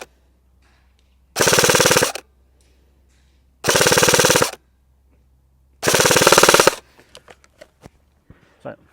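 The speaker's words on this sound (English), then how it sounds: "Let's do a full auto test and see how the maximum range is." Three long full-auto bursts from an AATV Arcturus GR16 MOD5 HK416 airsoft replica firing 0.3 gram BBs outdoors, each a loud, rapid, even buzz of shots separated by silence, followed by scattered faint taps.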